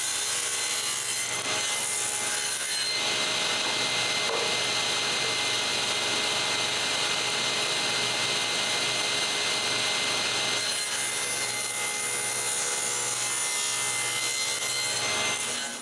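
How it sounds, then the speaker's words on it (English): Plywood pieces being sawn to an angle while building a movable workbench, a loud continuous rasping cut running steadily for about fifteen seconds with brief lulls near the start and end. "My pieces are too big. I have to cut them. Then I recut both of them to the same angle."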